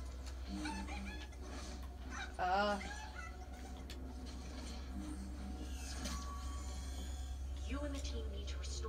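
A chicken clucks in Fortnite Chapter 4 Season 1, with short bird calls and one louder squawk popping up over steady game background noise and a low hum, fairly quiet overall.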